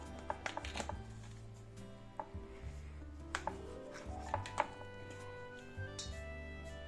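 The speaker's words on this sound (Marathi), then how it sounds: "आता कापून घेऊया याला चौकोनी आकार किंवा आपण त्रिकोणी आकार सुद्धा घेऊ शकतो" A knife cutting coriander vadi into small squares on a board, with a series of soft, close taps and thuds at an uneven pace, fairly quiet against a low background hum.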